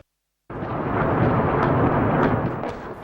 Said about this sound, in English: The Macedonians began their long-promised offensive with heavy mortar barrages of suspected rebel positions in the hills above Tetovo